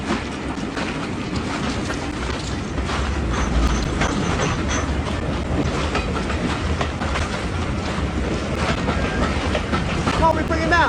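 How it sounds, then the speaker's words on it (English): A train runs past on the rails nearby, a steady heavy rumble with rhythmic clickety-clack of wheels over joints, loud and continuous throughout. "A train, then another one, and then another."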